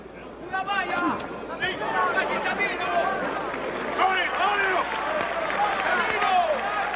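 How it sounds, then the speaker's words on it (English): A boxing arena crowd cheers and applauds steadily, a lively roar of clapping and shouts filling the hall, with ringside commentary talking over it. "the crowd are really appreciating this"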